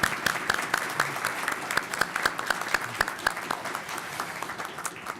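A commencement crowd applauds steadily, many hands clapping in a dense, even patter that carries on for several seconds and tapers slightly at the end.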